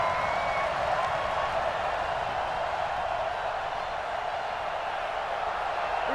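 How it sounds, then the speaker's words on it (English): Crowd noise from a Madden NFL 20 football game between the Dallas Cowboys and San Francisco 49ers, heard as a faint, steady stadium roar with scattered applause. "this crowd into it early"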